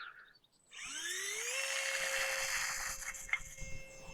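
A mini RC Predator Z51 plane motor spins up under throttle, a high electric whine rising quickly in pitch and then holding steady and loud, close by, with no talking.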